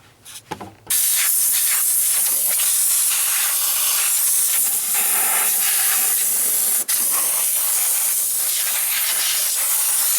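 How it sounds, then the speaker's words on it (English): A compressed air hose blasts into the engine bay of a 2003 Ford F150 with a 5.4-liter Triton V8, a loud steady rushing hiss that starts abruptly after a short fumbling noise and barely breaks. "Blow this sucker out. Come on, hose."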